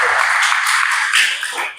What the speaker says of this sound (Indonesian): kita berikan tepuk tangan buat Tuhan